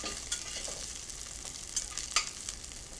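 Vegetables softening in a hot pan sizzle quietly while being stirred, with a few soft scraping strokes of the spoon standing out against the steady low frying hiss.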